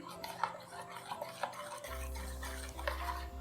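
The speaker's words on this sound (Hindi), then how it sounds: "बाकी की दही जो बच गई थी वो भी मिक्स कर लेंगे और इसमें हम नमक डाल देंगे, मिक्स कर लेंगे" Yogurt and salt are stirred together in a bowl with a utensil, making soft repeated clinks and scrapes; a low steady hum starts partway through.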